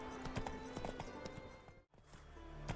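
Roach, the horse in The Witcher 3, trots along with rhythmic hoof clip-clops over a constant game soundscape, faint and close, pausing briefly before the steps continue.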